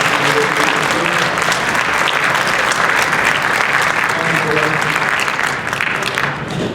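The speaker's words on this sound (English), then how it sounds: "but a big round of applause. This is Ms. Julia Knowles, fabulous." A school orchestra concert audience gives Ms. Julia Knowles a big round of applause, steady dense clapping filling the hall loudly for several seconds and easing slightly near the end.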